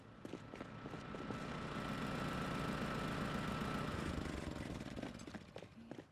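A generator in a video game chugs along with a steady, rattling mechanical drone that swells in and holds for several seconds before tapering near the end.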